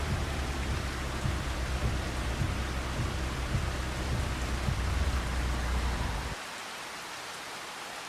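Steady rain pours in a Farming Simulator 25 scene, a dense even hiss that holds at full strength for about six seconds before dropping abruptly to a quieter wash.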